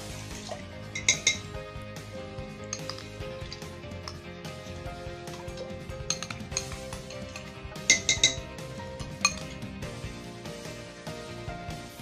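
Pre-washed rice poured into a pot for spiced khichdi, with close clinks and knocks of utensils against metal cookware and a soft wet rustle, scattered sharp taps over a steady background.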